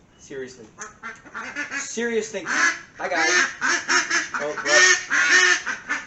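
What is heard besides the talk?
duck quacking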